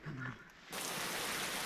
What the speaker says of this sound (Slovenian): kar se je ulil še dež